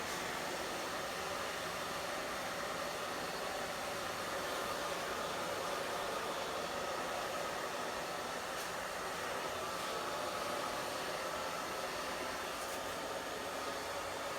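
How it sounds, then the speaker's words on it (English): Hair dryer with a diffuser attachment blowing steadily throughout, a constant broadband whoosh close to the microphone with no talking. "That's the thing about the diffuser, is it doesn't blow hard enough to blow the curl out."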